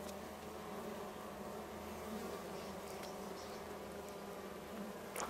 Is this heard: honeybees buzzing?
yes